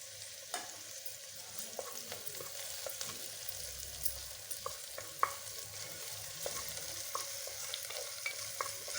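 Sliced onions with a pinch of salt sauté in a pan, a soft sizzle under repeated light scrapes and clicks of stirring, fairly quiet and without talk.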